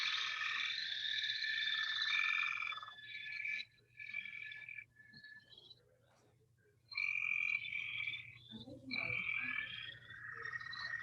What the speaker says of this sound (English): now leopard frogs have a really cool sound